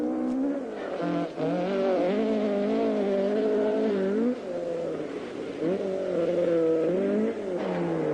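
A 1978 British rally car's engine revs hard and close, pitch climbing through the gears with brief dips at each shift, loud and sustained with no voices over it.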